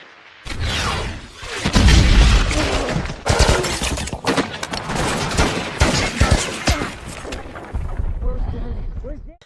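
A war film battle fills with rapid gunfire bursts and booms, dense and loud, while a narrator's voice talks over the shooting.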